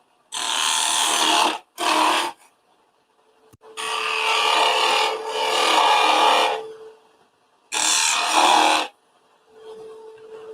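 Wood on a lathe being turned with a spindle gouge on a small snowman project, heard as several loud, close bursts of hissing, rasping cutting separated by pauses where only the motor's faint steady hum remains.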